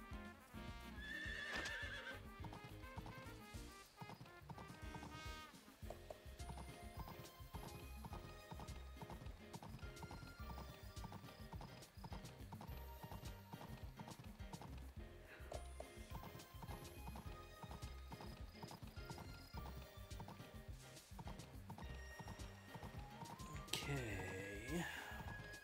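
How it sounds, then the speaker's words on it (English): In the farming video game Pioneers of Olive Town, a horse's hooves clip-clop in a steady rhythm and it lets out loud whinnies, with game music and a person talking throughout. "Leave the horse here, he'll automatically go back to his stable."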